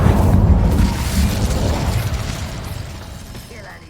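A fire spell cast in Hogwarts Legacy bursts out as a loud, low whooshing boom that rumbles and slowly fades over a few seconds, standing alone without talk.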